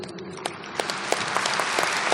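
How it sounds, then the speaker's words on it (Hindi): An audience applauds at a felicitation ceremony, a steady crowd of clapping hands with sharp individual claps standing out, fairly soft and building slightly louder toward the end. "और जोरदार तालियां"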